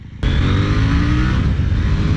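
A KTM Duke 890R twin-cylinder motorcycle accelerating hard in second gear, its engine loud and close with a rising, continuous roar.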